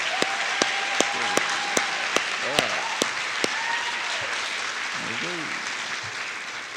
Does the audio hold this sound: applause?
yes